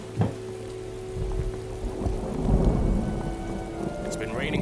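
Heavy rain falls steadily during a thunderstorm while low thunder rolls and rumbles underneath, with a sharp crack near the start.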